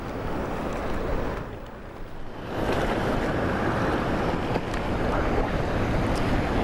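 Ocean waves and swell surge at a Western Australian shore during rough tailor fishing, a loud continuous wash of surf mixed with wind buffeting the microphone, dipping briefly before building again, with no talking.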